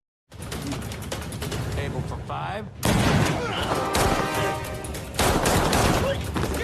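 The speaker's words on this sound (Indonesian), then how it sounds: "Saat yang bersamaan Anna dan Rai melepaskan tembakan sehingga terjadi baku tembak antar mereka." Gunfire from a film shootout with a pistol among the weapons: dense, rapid bursts of shots crackle almost continuously, briefly dip around the middle, then return louder and close up.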